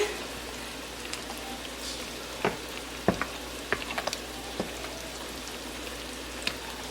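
Cornbread dressing being mixed by hand with half a stick of melted butter: a soft, quiet backdrop broken by a few sparse, faint scrapes and clicks of the utensil through the moist crumbs, with no talking.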